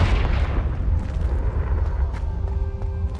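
A Confringo spell explosion in Hogwarts Legacy sounds as a loud, deep boom with a rumbling, crackling tail that fades slowly over a few seconds.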